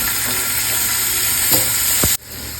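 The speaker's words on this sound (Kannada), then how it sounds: "ಸ್ವಲ್ಪ ಬಟರ್ ಹಾಕ್ಕೊತಾ ಇದ್ದೀನಿ ಫಸ್ಟ್. ಅದ್ರ ಮೇಲೆ ಪನ್ನೀರ್ ಸ್ಲೈಸಸ್ನ ಹಾಕ್ತಾ ಇದ್ದೀನಿ." Paneer slices frying in butter in a pan, a steady close sizzle with a couple of brief stirring scrapes before the sizzle drops away abruptly near the end.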